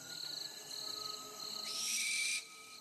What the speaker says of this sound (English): Here's a scream from an owl